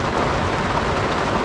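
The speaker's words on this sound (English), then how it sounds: "It's raining and a lot" Heavy rain falling on a boat, a dense, loud, unbroken hiss of drops that holds steady throughout with no voices.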